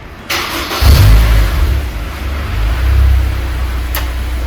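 A car engine starts and runs on a chassis dynamometer in a garage, a loud low rumble that steadies into an idle with a slight rise in revs, and no one speaks.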